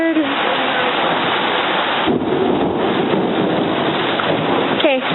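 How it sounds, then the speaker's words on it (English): Heavy rain pours down steadily outdoors as a loud, dense hiss with a low rumble beneath it, and people speak briefly over the downpour. "It's raining so hard."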